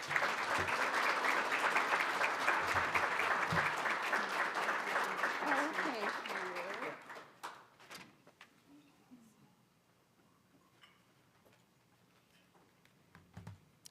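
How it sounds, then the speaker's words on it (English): Conference audience at a general assembly applauding after a talk, dense clapping for about seven seconds that then fades quickly to scattered claps and quiet room noise with faint movement. "Another round of applause for that inspiring talk"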